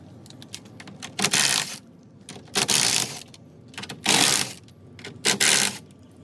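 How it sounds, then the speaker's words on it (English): A ratchet loosening four 10mm bolts on a Ford Bronco during headlight installation: four separate bursts of fast metallic clicking, each about half a second long, spaced a second or so apart, close and fairly loud. "We're gonna have 4 10mm bolts, 1, 2, 3, 4. We'll get those removed."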